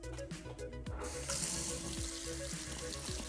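A Kohler Konnect smart faucet runs water for rinsing hands, a steady close splashing stream filling the sink with a brighter hiss as the flow strengthens partway through.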